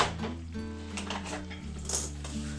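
Dishes and a spoon clink softly while Swedish meatballs and buttered egg noodles are plated, scattered light metallic taps and scrapes at close range over a low background hum, with no talk.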